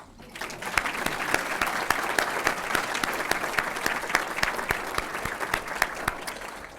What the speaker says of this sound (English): May I please ask for the first round of applause.